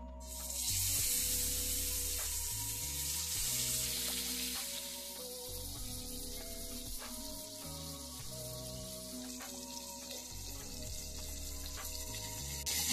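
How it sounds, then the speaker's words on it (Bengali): Fish fry in mustard oil in a frying pan, giving off a continuous close hiss and sizzle that stays steady for several seconds, with faint background music underneath. "ফ্রাই প্যানে আমি কিছুটা সর্ষের তেল দিয়ে দিলাম। আমি মাছগুলো ভাজবো।"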